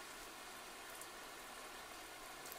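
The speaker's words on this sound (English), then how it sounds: "The sound of the rain is soothing and" Rain falls in a steady, even hiss like white noise, with no distinct drops or pauses, and there is no other sound over it.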